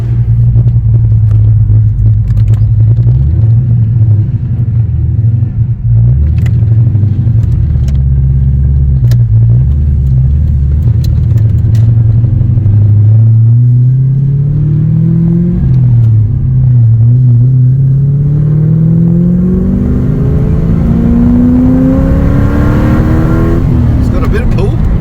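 Loud rumbling car engine heard from inside on a road drive after dyno tuning, a deep steady drone that rises in pitch through several acceleration pulls, with voices over it at times.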